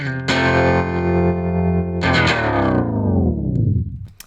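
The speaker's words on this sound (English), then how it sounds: "it sounds much more cartoony now, but this can be a really helpful thing if you want that kind of vinyl speeding up kind of sound going on" A sustained tone given a cartoony vinyl slow-down effect in Logic Pro X drops steadily in pitch as it winds down, with a sharp restart partway through before it slows and fades out.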